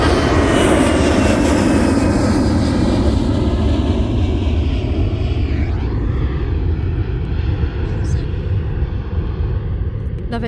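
An EasyJet airliner passes overhead while plane spotting in Bristol, a loud steady jet roar with a slowly falling, Doppler-shifting whine that fills the whole stretch and gradually eases, with speech faintly under the engine noise.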